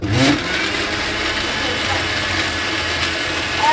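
A kitchen grinder whirs loudly and steadily up close while churning an ice cream mixture with fresh cream, a continuous mechanical roar with a brief surge at the start.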